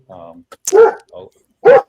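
A dog barks a few short, close yips and woofs indoors at home, loud and alone over a brief moment.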